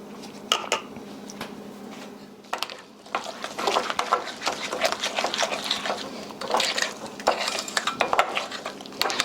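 Mashed strawberries, juice and all, stirred into a mixture in a bowl for a strawberry cream pie, with repeated utensil scrapes and clinks against the bowl, close and moderately loud, continuing steadily without talk.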